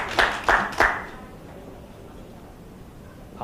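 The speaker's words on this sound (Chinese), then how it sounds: "我们再一次热烈掌声，谢谢蔡委员" Three quick bursts of applause from a forum audience in the first second, a thank-you clap that fades fast into a quiet room.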